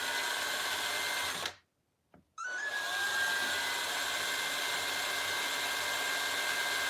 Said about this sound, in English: Man, this thing will not drill into this plastic.